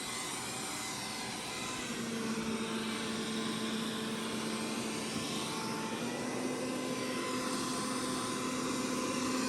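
A Zoozee Z70 robot vacuum runs with a steady, even whirring drone and a faint tonal hum, close and constant throughout with no talking.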